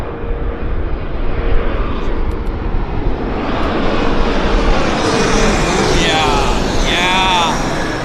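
A CRJ jet approaches and lands at Vancouver airport (YVR), heard as a loud, steady engine roar that builds and thickens, with a rising whine toward the end and wind buffeting the microphone outdoors.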